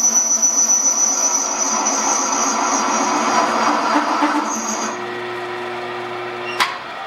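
Boring out a hole in a brush hog blade on a machine tool: a steady, loud whirring cut with a high whine and a low rumbling hum, which eases off near the end before a sharp brief clack.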